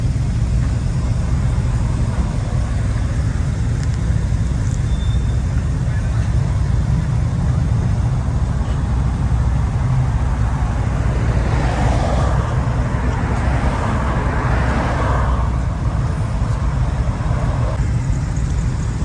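A lowered white Chevy truck rolls down the street at a car show, its engine a steady low rumble under the murmur of the crowd, with a passing swell of road noise toward the end.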